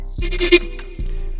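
A short sung vocal with a tremolo plugin and doubler effect, wavering and thickened, sounding almost like a bleat across two brief phrases.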